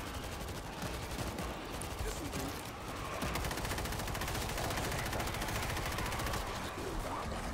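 Gunfire in World War Z during a New York level: dense, rapid automatic fire sounds as one almost continuous, close barrage that swells slightly partway through and then holds steady.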